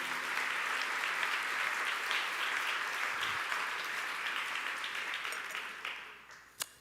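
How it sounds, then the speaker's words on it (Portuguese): A church congregation at a Sunday evening service applauds, a soft, steady wash of clapping from a distant crowd that tapers off near the end, with a low hum beneath. "Vamos aplaudir Jesus."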